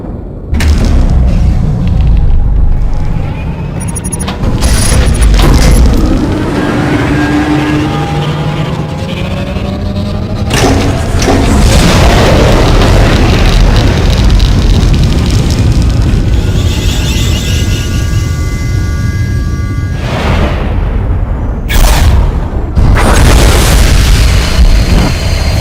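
The Silencer superweapon fires in a Star Wars: The Old Republic cinematic, unleashing deep, sustained booming blasts and rumbling explosions with aircraft-like roars that stay loud and dense for the full length.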